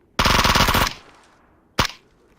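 Close automatic gunfire from a PUBG match on the Vikendi map, one long rapid burst of about three-quarters of a second, then a short single crack a moment later, with no talking.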